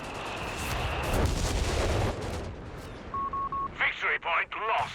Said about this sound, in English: Here comes some base howitzers though.